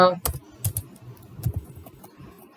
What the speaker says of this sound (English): And now let's start typing.